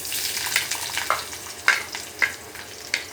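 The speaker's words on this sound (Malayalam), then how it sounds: "ആദ്യം നമുക്ക് സവാളയും പച്ചമുളകും തക്കാളിയും കൂടെ വഴറ്റണം" Shallots, green chillies and tomatoes sizzle in a pan while being stirred for a prawn masala, with a steady frying hiss broken by several sharp scraping and clinking strokes of the spatula.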